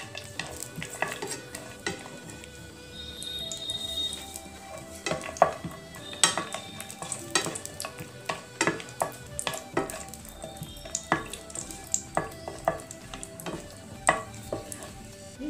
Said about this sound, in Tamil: முந்திரி வறுத்து எடுத்துக்கலாம்